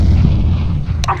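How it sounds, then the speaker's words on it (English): A grenade detonates in Counter-Strike: Global Offensive, a loud, heavy boom with a rumbling low-end body that fills the short moment, followed by a brief sharper burst near the end. "I'm throwing a grenade."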